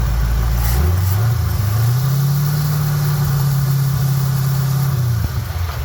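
Old Ford truck engine, close and loud, rumbling unevenly low at first, then rising to a steady, higher running note that holds for several seconds before dropping at the end.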